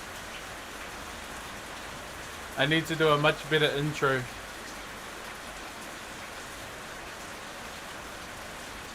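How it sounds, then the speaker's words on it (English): Rain falls steadily outdoors with a soft, even hiss that continues the whole time, while someone speaks briefly over it near the middle. "The rain, sound of the rain sounds nice in the background."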